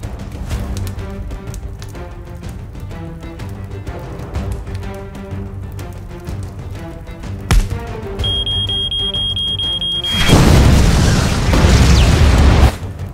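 A bomb goes off in a Vietnamese action-comedy film scene, a loud sustained blast and roar that breaks in near the end after a stretch of dramatic music and a brief high alarm-like tone.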